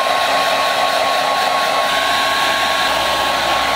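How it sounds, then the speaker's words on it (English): A hair dryer in a quarantine room runs with a loud, steady, unbroken whir throughout, close by and alone. "I realized that the room does come with a dryer"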